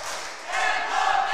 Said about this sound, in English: The crowd is absolutely electric.